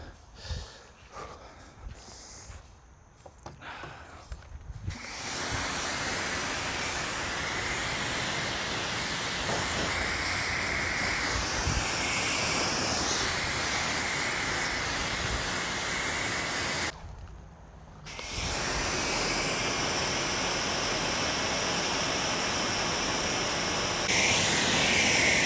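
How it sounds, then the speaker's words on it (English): A Ryobi 1.8 GPM high-flow pressure washer sprays soap onto a two-stroke dirt bike's engine compartment, a loud continuous hissing rush that runs for long stretches, cuts out briefly and starts again. "I'm going to try to spray just a little bit more in this engine compartment"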